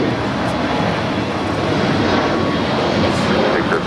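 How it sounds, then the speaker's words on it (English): A Cathay Pacific Boeing 777-300ER in updated livery taxis at LAX, its jet engines giving a loud, steady broadband roar that holds evenly throughout with no voices. "So Cathay Pacific 777-300ER in the updated livery."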